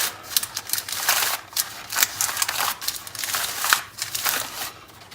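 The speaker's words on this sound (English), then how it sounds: "use this parchment paper to roll our compound butter" Parchment paper crinkling and rustling as ramp compound butter is rolled up inside it, with loud, close, irregular crackling bursts.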